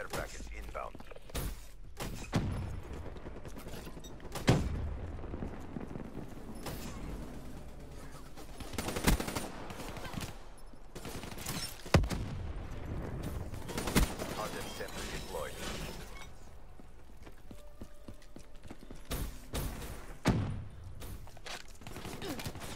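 Repeated bursts of automatic gunfire and single shots in Black Ops III multiplayer, loud sharp volleys spread across the clip with thuds between, while a player talks over the action.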